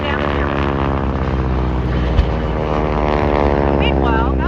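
Loud, steady propeller drone of a P-36 Hawk fighter in a war simulation video game, continuous engine hum with harmonic tone throughout, no speech.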